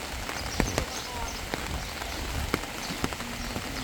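Steady rain keeps falling on a flooded residential lane in Thailand, a dense hiss of drops with scattered sharper splashes and taps, fairly close and even, no voices heard.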